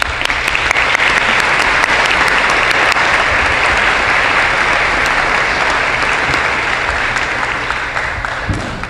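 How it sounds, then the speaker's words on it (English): Loud, sustained applause from the audience at a college baccalaureate and prize-giving ceremony, an unbroken roar of many clapping hands that tapers slightly near the end. "a big hand of applause for Philip"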